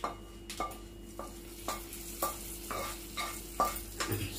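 Mustard-seed tempering is stirred into Andhra-style ginger chutney with the stove switched off. A spoon scrapes in a steady rhythm of about seven soft strokes over a quiet background sizzle, and no one speaks.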